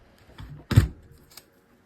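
Keyboard keys give a few sharp, close clicks, one louder snap in the middle and lighter taps around it, in an otherwise quiet room.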